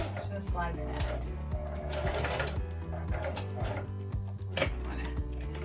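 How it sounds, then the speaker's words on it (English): A sewing machine stitches elastic into a tube dress through all layers, running in quick rhythmic bursts of mechanical stitching with short pauses, close and clear, while a person talks over it. "So you just want to go through, and you're just going to sew through all thickness."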